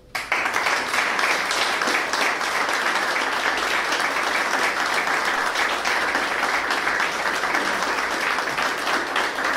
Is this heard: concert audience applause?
yes